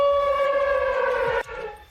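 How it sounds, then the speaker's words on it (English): A loud, steady air raid siren in Ukraine, near the front line, wails on a single held pitch, then cuts off abruptly, leaving quieter background noise. "the siren here hardly ever stops"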